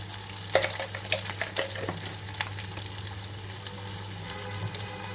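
Garlic cloves and spices frying in a pan for a cucumber yogurt chutney, a faint continuous sizzle with a few light stirring taps early on, over a low steady hum, no speech.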